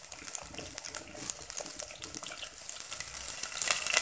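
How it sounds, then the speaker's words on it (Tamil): Small onions and five garlic cloves sauté in gingelly oil for a South Indian ridge gourd gravy, giving a soft, steady crackling sizzle that stays fairly faint throughout, with no talking. "நல்ல எண்ணெயிலேயே வதங்க விடுங்க, பச்சை வாசனை போகிற அளவுக்கு வதக்கணும்."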